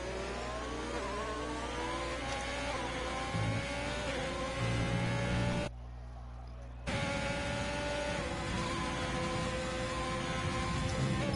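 Formula 1 cars race in a video game, their engines revving and whining continuously with shifting pitch, a steady loud roar that drops out briefly near the middle before resuming.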